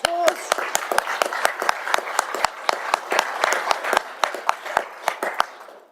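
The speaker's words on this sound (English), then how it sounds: "Let's give them a round of applause." Applause at a council meeting for a youth council presentation: a dense run of brisk hand claps from a small group in the room, steady for several seconds before tapering off at the end.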